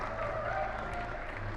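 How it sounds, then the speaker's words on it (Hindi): Steady applause from a crowd at a Free Fire India Today League esports award presentation, continuous and fairly dense throughout, with a low hum underneath. "इनके लिए और जोरदार तालियां यार."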